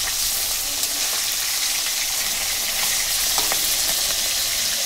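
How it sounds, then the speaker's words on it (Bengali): Fish frying in hot oil in a home kitchen, giving a steady, close, continuous sizzle and crackle with small pops throughout and no talking. "এ দেখো তেলটা গরম হয়ে গেছে, মাছগুলো ছেড়ে দিই।"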